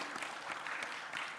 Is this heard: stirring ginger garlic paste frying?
no